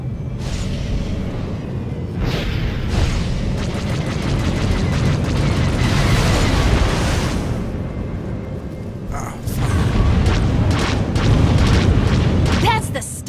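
Missile blasts in a co-op shooter video game, a string of loud booming explosions and rumbling gunfire running through most of the stretch, with a short lull midway before another burst of blasts and people talking over the action.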